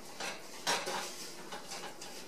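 Oats stirred into a buttery syrup mixture in a pot, a few close scraping and clinking strokes of a utensil against the pot.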